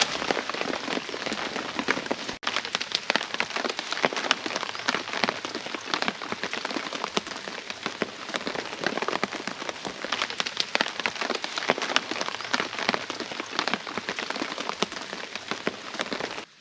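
Rain falling outside a camp shelter during remote kayak river camping, a dense, steady patter and hiss of drops on surfaces, close and continuous throughout with no voices.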